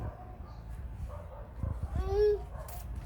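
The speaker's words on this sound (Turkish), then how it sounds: "Burada hav havlar var gitme oraya." A dog gives a short whimpering, yelping cry close by over a low background murmur, with a faint voice in the room.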